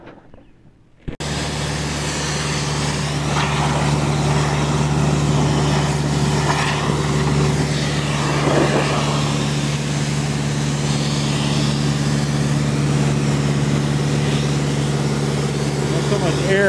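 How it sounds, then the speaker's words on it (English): A diesel air compressor cleaning a dirty radiator kicks on after a second of quiet and runs continuously, a loud, steady engine drone with a tonal hum and a rushing blast of air. "I'm going to give you a demonstration on how much air that compressor blows."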